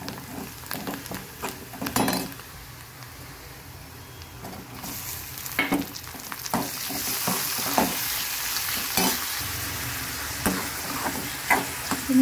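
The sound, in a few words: tomatoes frying in a pan for bottle gourd curry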